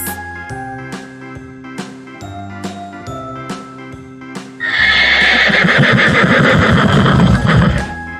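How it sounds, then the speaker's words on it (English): A horse gives a loud, long whinnying neigh that cuts in after a few seconds of bright children's alphabet music and carries on to the end, full and close. "H for horse."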